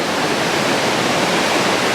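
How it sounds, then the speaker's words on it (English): Ocean surf at Pismo Beach rushes in a steady, loud wash of broadband noise, continuous and close with no distinct breaks or voices. "we're just continuing along the ocean. Beautiful sounds."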